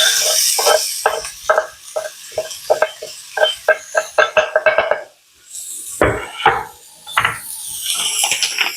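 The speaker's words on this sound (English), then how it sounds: "we're going to add in our onions and peppers" Onions and peppers hiss and sizzle in hot olive oil in a pan, loud and close, broken by repeated scraping and stirring strokes of a utensil with a brief pause partway through.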